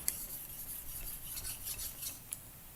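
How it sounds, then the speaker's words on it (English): Hand sanding of a kitchen knife blade with 2500 grit paper makes quiet, rhythmic raspy rubbing strokes, faint and close, with a couple of small clicks. "I'm doing a 2500 grit finish, just a quick rub over it"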